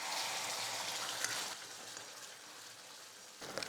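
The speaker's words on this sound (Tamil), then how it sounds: "எண்ணெய் ஓரளவுக்கு காஞ்சதும் இப்போ நம்ம அரைச்சி வச்சுருக்கிற இந்த விழுதை வந்து சேர்த்துக்கலாம்." Ground spice paste sizzles loudly as it hits hot oil in a pan while cooking bread pizza, a dense crackling hiss that gradually softens, with no talking.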